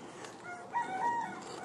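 A rooster crows faintly from a backyard chicken coop in Texas, a brief drawn-out call rising over quiet outdoor background.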